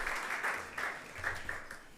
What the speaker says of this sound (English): With a hefty round of applause, can we welcome Mr. Gameli Ajaho.